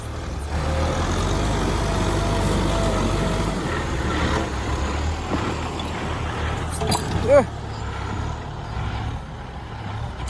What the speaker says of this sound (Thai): เดี๋ยวเขาเร่งสองตีนแล้วครับ